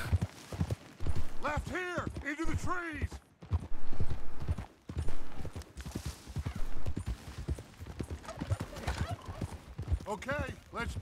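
Horse hooves clop and gallop in the Red Dead Redemption video game, a steady rhythmic beat running under frequent talk and a vocal exchange throughout.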